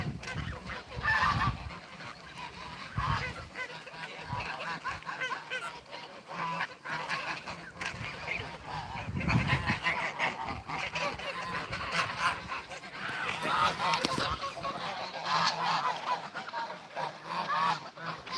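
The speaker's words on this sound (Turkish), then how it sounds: "Bunlar çorum kazı arkadaşlar." Several Çorum geese honk and cackle throughout, a noisy overlapping flock calling close by on a farm with no talking.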